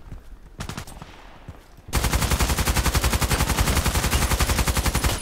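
Rapid automatic gunfire from a high-fire-rate weapon in a sniper shooting video game, a few short bursts first, then a loud, continuous stream of evenly spaced shots lasting several seconds, close and without talk.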